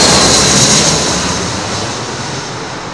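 A Boeing 777 jet airliner passes close on arrival to runway 27L at London Heathrow, a loud broadband engine roar with a high whine that slowly eases as it goes by.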